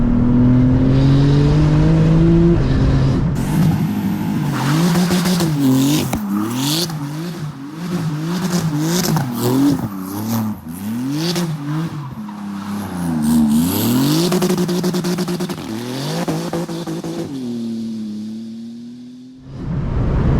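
A Porsche GT2 RS Weissach engine roars and accelerates hard, with rapid gear shifts climbing and dropping in pitch and a brief tire squeal, loud and continuous.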